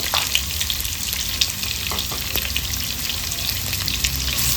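Chopped onion and cumin seeds fry in hot oil, a loud, close, continuous sizzle with crackling pops and occasional scraping of a spoon stirring the pan.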